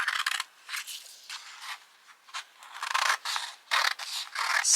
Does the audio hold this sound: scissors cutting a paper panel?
yes